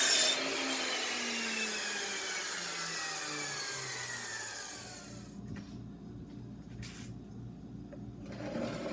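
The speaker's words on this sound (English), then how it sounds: "Then I set a stop block at the miter saw, and I squared off the ends" A miter saw squares off the ends of wood pieces for a lamp build, its blade whining down steadily as the cut finishes, followed by a few sharp tool clatters nearby, no voices.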